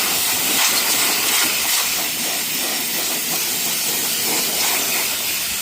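A steady, loud aerosol-like spray of lanolin Fluid Film hissing continuously with no pauses, close to the listener.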